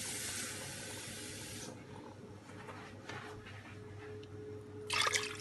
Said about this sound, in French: Toujours mettre l'eau, voilà, à côté de la marmite, comme ça.